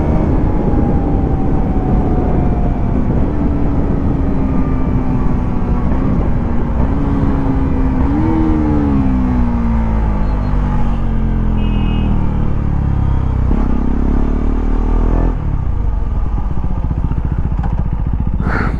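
KTM Duke 390 and Duke 250 motorcycles riding on the road: a loud, close engine drone that rises and falls through gear changes over steady wind rush, then eases off as the bikes slow, with no talking.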